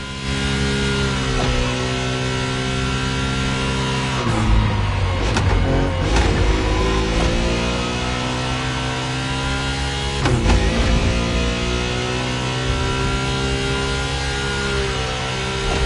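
Nissan Skyline engine in The Crew Motorfest racing game, a steady loud drone with rising revs and shifting harmonics across the run, with brief bursts around gear changes and no talk.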